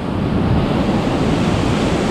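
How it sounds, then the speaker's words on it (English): Big rough ocean waves crash on the shore of Monas Island, a steady loud roar of surf with gusty wind buffeting the microphone throughout, no voices. "Big waves, but it's so rough."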